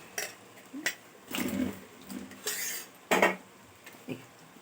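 Potatoes go into a pot of cabbage and are stirred, giving irregular metallic clanks and scrapes of a spoon against the pan in short close bursts.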